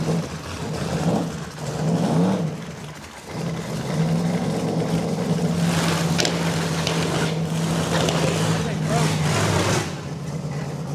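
A no-prep drag race car at Beech Bend Raceway Park struggling through a burnout, its engine popping and banging with a rough, uneven roar that holds steady and loud while people talk over it.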